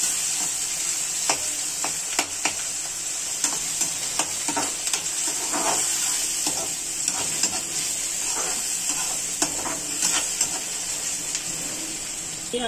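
Something frying and sizzling steadily in a pan, cooked until light brown for a chickpea curry, with a constant hiss and frequent clinks and scrapes of stirring throughout, no talking.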